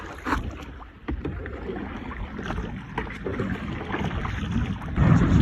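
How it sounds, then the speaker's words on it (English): Wind gusting across open water around a paddleboard at sunrise on Bacalar lagoon in Mexico, a steady rumbling buffet with splashes and microphone wind noise that swells louder near the end. "Windy, windy."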